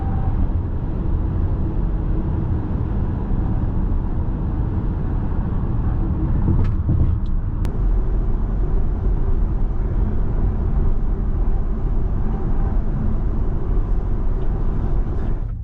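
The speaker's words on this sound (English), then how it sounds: "I'll play an unaltered clip of highway driving so you can hear the difference in road noise in each vehicle" Highway road noise inside a Ford Mustang Mach-E electric car, a loud steady low rumble of tires and wind that holds evenly throughout, with a couple of faint clicks partway through.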